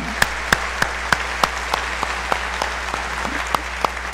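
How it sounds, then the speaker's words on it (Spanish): A church congregation applauds in a rhythmic, steady beat of sharp claps, heard moderately close, with a low hum in the background and no clear talk. "Denle un aplauso al Señor."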